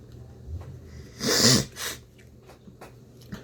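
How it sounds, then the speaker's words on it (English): A single sharp, wet nasal burst, likely a sniffle or snort, followed by a shorter breathy sniff, then quiet. "I apologize for the sniffles."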